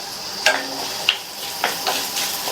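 Onion and garlic sauté in a pan for a chutney. A soft steady sizzle runs throughout, with a few light clinks and stirring scrapes against the pan, close by, and no voices.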